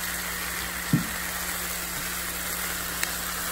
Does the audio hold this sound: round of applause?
no